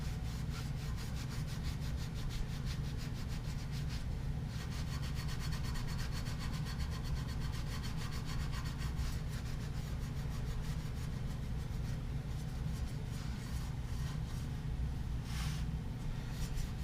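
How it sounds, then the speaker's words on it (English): Standard double-aught steel wool rubbed over a chrome wheel to remove rust, a continuous faint scratchy scrubbing with rapid back-and-forth strokes lasting the whole stretch, no talking. "the best stuff you can use on chrome and steel wheels is going to be just standard double-aught steel wool"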